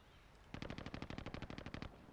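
A rapid burst of machine-gun fire in the video game Warzone, about fifteen sharp shots in quick even rhythm, starting abruptly after a quiet moment and sounding fairly distant.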